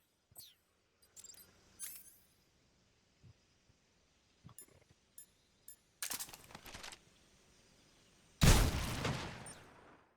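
Shotgun blasts in the stealth game Metal Gear Solid Delta: Snake Eater, scattered clicks and small impacts leading to a couple of sharp bursts, then one loud, close, broadband boom that rings out and decays over the final seconds.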